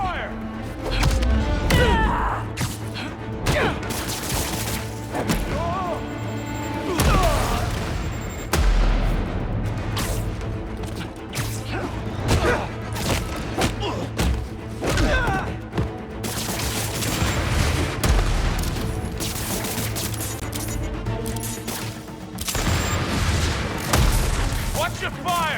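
Rapid bursts of gunfire and booming impacts fill a chaotic combat scene in Marvel's Spider-Man 2, continuous and loud throughout, with voices shouting over the battle noise.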